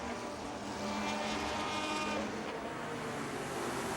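A pack of Le Mans race cars — a Ferrari, a Ligier and two Lola T70s — blasts onto the Mulsanne straight, a continuous loud engine roar holding steady with slight rises as they pass.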